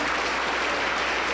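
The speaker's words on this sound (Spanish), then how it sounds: "Aplauso para el Señor Jesús." A Pentecostal church congregation claps together in steady, dense applause that holds at an even level throughout the brief moment, filling the hall with no voices on top.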